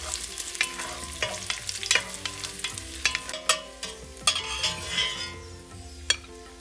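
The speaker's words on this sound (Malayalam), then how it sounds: "ഇനിയും വറുത്തെടുക്കുന്നത് റൈസിൻസ് ആണ്" Raisins frying in ghee in a pot, with a soft steady sizzle and frequent sharp clinks and scrapes of a metal spoon stirring, close and moderately loud with no voices.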